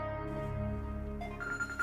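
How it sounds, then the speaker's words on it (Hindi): Telephone ringing indoors in a household scene, a steady tonal ring with sustained harmonics that shifts pitch near the end, fairly close and clear with no talk over it. "1 मिनट, हम फोन सुन के आते हैं।"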